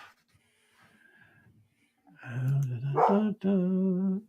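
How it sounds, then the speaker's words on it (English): A dog gives a few breathy, snorting barks and whines, starting faint then rising to loud close yelps near the end, with quiet rustling before. "my dog's going to bark momentarily"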